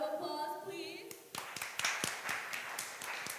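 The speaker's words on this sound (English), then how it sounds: "Round of applause, please." Small audience at a student tech talk claps with scattered, fairly faint individual claps after a voice, not a full dense applause.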